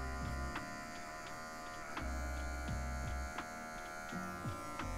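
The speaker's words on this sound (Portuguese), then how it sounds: "Só com a pontinha da maquininha a gente vem tirando essa leve marcação" An electric hair clipper blends a mid fade haircut, its close, steady buzzing hum running throughout, with brief changes in tone as the blade tip touches and lifts off the hair.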